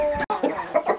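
Several chickens cluck and chatter close by in short, uneven bursts, with one brief sharp cutoff partway through.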